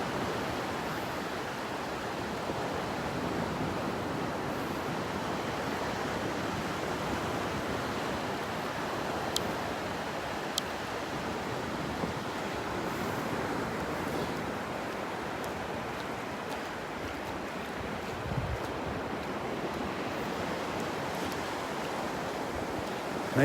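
Gulf surf rolls onto the beach at Delnor-Wiggins on a calm morning, a steady, broad wash of waves with a little wind, continuous and unbroken, with no voices.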